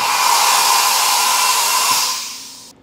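Compressed air hisses loudly and steadily through the spindle of a Haas CNC machine for about two and a half seconds, then cuts off abruptly, close up with no talk.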